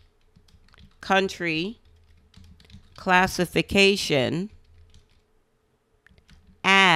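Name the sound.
typing on a computer keyboard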